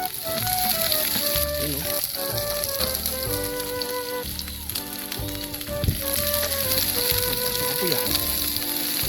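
Garlic fries in oil in a pan for sardine sarciado, with a loud, continuous sizzle and crackle, close by, while a voice speaks briefly over it and music plays in the background.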